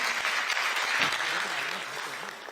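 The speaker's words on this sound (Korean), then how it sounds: "다시 한번 뜨거운 박수 부탁드립니다" An audience at a Korean party national convention applauds warmly, a steady wash of clapping that fades slightly toward the end, with no voices over it.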